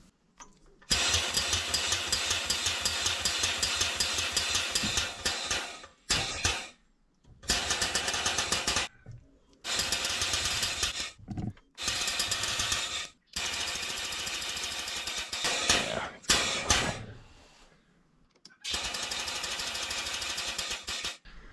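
An air-compressor-powered grease pump greases the fittings on a Case 170B excavator, sounding as a series of loud, close, buzzing mechanical bursts of varying length separated by short silences.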